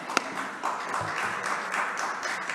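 An audience at a gala event claps in a steady, moderate round of applause that carries evenly from start to finish, with a few louder individual claps standing out.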